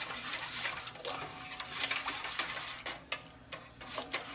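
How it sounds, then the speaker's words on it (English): Rapid whisking in a metal bowl makes a busy, continuous run of close metallic scraping and clinking strokes in an uneven rhythm, loud and unaccompanied by talk. "that is the reason why I have this metal bowl here. Because I'm going to whisk this"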